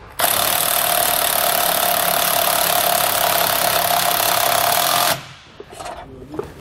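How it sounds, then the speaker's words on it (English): A power tool with a 9/16 socket drives a nut while an adjustable wrench holds the bolt on a jack stabilizer kit fitted to a 2011 Forest River RV. It gives a loud, steady whirring buzz for about five seconds and then cuts off, leaving faint clatter. "I'm going to use an adjustable wrench to hold the one side and a 9/16 socket for the nut on the other side."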